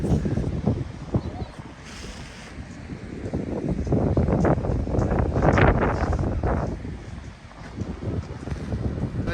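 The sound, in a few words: wind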